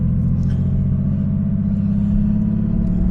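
Air-cooled Porsche 911 3.2 Carrera with its original 915 gearbox and about 100,000 miles, driven gently on a cold engine; a steady, close, loud engine drone and rumble runs throughout with no breaks and no talking.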